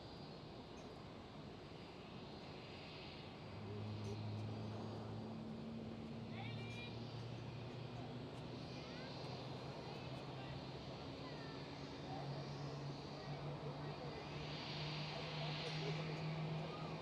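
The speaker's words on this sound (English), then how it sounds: "There is your aircraft, Sam. The Airbus A320." An Airbus A320 at Schiphol airport gives off a steady, distant engine rumble and hum that swells slightly partway through, faint beneath a voice talking nearby.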